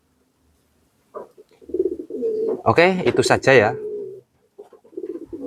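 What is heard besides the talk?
pigeon cooing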